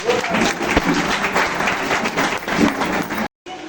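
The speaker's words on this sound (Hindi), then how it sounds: "जोरदार तालियां।" A crowd at a Women's Day programme in Ajaygarh honouring Savitribai Phule breaks into loud, sustained applause that fills the clip, then cuts off abruptly near the end.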